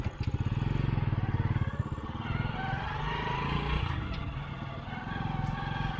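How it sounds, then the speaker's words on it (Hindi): A borrowed friend's motorcycle heard while riding, its engine pulsing in a fast low putter with rattle and wind noise, close and steady, easing slightly midway before picking up again. "मेरी बाइक कहीं गई हुई है, तो मैं दोस्त की बाइक लेके जा रहा हूँ।"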